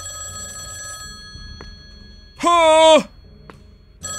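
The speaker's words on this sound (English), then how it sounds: "Was the phone that I just answered not ringing? I swear it was." Office telephone in the video game Red Tape gives one loud electronic ring burst, while a voice exclaims briefly and soft game sounds and tones continue around it.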